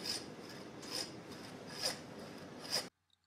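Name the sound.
saw cutting through beef hip bone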